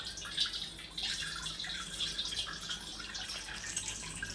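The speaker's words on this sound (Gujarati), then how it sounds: "જો પાણી ભરાય છે." Water runs from a tap to fill a container for cooking noodles, making a steady, hissing splash that continues throughout without any talk.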